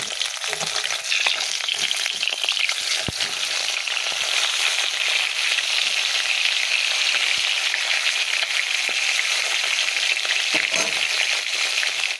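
Live fish frying in a wok gives a loud, steady, dense sizzle that fills the whole stretch, with occasional crackles and spatters and no voices.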